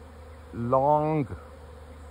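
A swarm of about 20,000 honey bees gathered in a brown cluster gives off a close, steady harmonic buzz that swells for under a second, then drops away, with a single spoken word heard over it.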